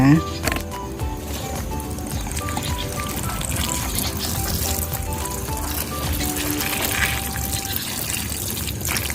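A liquid fertilizer mixture poured over garden plants as a steady, continuous splashing flow, fairly loud, under background music.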